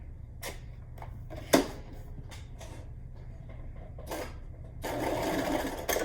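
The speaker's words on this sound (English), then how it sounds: "turn them inside out, sew from here to here" A sewing machine runs in short bursts while stitching a double-sided cloth face mask, with clicks and pauses between runs and a longer, louder stretch of stitching near the end.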